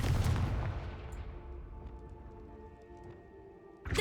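A Confringo spell blast in the Hogwarts Legacy video game: a loud, sharp explosive boom at the start, then a long, fading rumbling tail with faint ringing tones and no talking.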